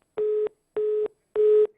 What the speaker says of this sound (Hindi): चलिए लगता है डिस्कनेक्ट हो गया।